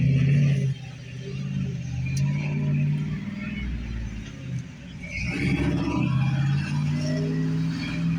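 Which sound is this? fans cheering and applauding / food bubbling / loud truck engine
loud truck engine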